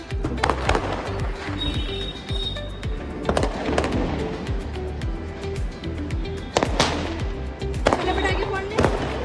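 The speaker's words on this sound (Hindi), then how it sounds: "चलो पटाखे फोड़ने के लिए।" Firecrackers burst outdoors one after another, sharp loud cracks and pops at irregular intervals, with a few crackling strings between them. Voices talk in the background.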